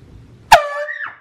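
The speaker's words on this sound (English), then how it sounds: "I'm actually gonna be scaring Caitlin with a nice air horn" One short, very loud air horn blast used as a prank, bursting in abruptly after near quiet and holding a bright, brassy honk for about half a second before cutting off.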